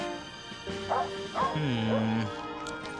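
A cartoonish dog from a children's show gives a few short, whimpery yips and woofs, some pitched tones sliding down, fairly close and clear with a faint background bed.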